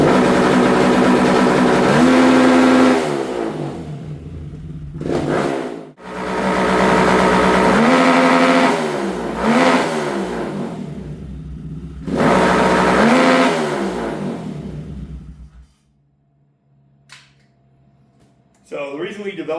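A tuned car engine with push-button 2-step launch control revs up repeatedly to a held limit, about three sustained loud bursts with drops between them, then settles to quiet idle; speech is heard over it.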